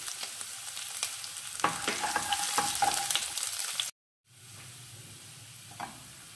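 Finely chopped garlic and ginger fry in hot oil with cumin, a dense crackling sizzle and scattered spatula clicks, broken by a brief silent cut before a softer, quieter sizzle resumes.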